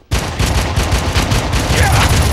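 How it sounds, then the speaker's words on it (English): Red Faction video game gunfire: a loud, rapid automatic burst of closely spaced shots that breaks in abruptly and keeps hammering without pause. "Take a lot of that fucking gunfire, don't you, assholes?"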